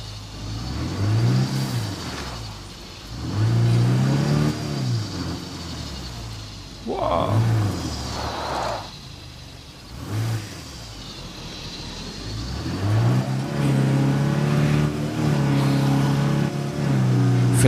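A car engine in the zombie survival game State of Decay 2, revving and easing off in repeated surges as the vehicle drives on, loud and continuous across the whole stretch.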